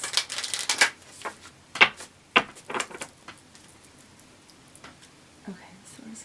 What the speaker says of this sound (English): You know, I feel like I need to shuffle.